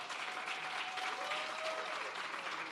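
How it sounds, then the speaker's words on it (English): Steady audience applause at a business academy launch event, a dense even wash of clapping filling the whole stretch without pause. "Can we hear another round of applause?"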